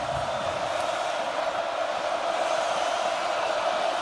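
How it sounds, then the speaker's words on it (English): Stadium crowd at Kinnick Stadium roaring for Iowa's defense during an Oregon vs Iowa college football game, a steady, dense wall of loud cheering and noise sustained throughout. "Kinnick crowd trying to get loud for their defense"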